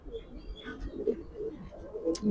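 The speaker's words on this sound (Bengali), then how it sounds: "এই হলো কবুতরটা" Soft, low cooing from a female racing pigeon, a few murmured phrases close by over a dull background rumble, with a brief higher chirp near the end.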